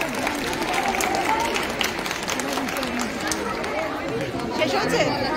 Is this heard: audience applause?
yes